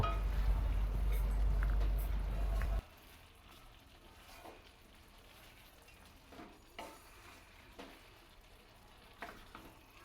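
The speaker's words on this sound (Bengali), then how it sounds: "এই সমস্ত উপকরণগুলোকে দিয়ে আবার ভালো করে একটু মিশিয়ে নেব" Bottle gourd and fried prawns being stirred in a pan, starting with a loud burst of handling noise that drops to a quiet, soft sizzle broken by occasional scrapes and clinks of a spoon.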